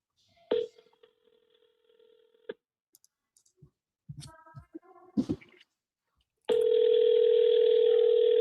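Telephone call tone heard from a handset: a steady ring tone with a brief pause, a few clicks and key presses, then a loud continuous tone sounding alone to the end.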